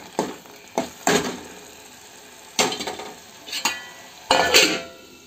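Masala paste of ginger and onion fries in oil for a fish curry, a soft sizzle broken by several sharp stirring scrapes and knocks of a spoon against the pan in irregular bursts.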